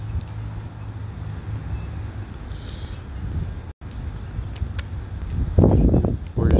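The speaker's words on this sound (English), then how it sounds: "this wind is just so strong today" Strong wind buffets the microphone in a steady rough roar that swells into louder gusts near the end while a Mavic Mini drone is flown outdoors, with a person speaking over it.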